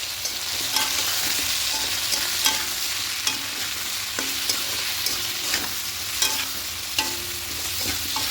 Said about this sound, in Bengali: আদা রসুনের পেস্টটা দেবো অল্প করে দেবো আর পরিমাণ মতো লবণটা অ্যাড করবো খুব ভালো করে মিশিয়ে নেবো